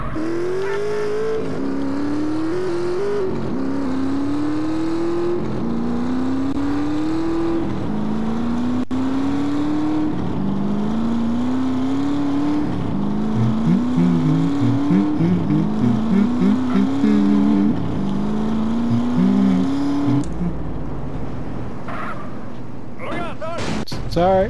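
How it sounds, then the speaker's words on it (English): Armored truck engine in Grand Theft Auto: San Andreas, a loud, continuous drone that repeatedly rises through the gears, with engine noise and game voices on top. "we're en route in the armored truck"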